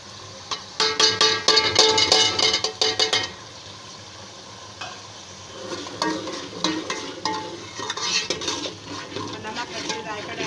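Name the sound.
ground coriander, cumin and turmeric frying in pan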